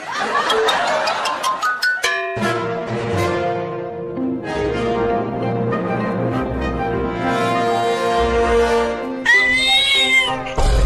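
A small cartoon kitten's high meows sound over a busy musical backdrop, with a few sharp squeaky cries near the start and again at the end.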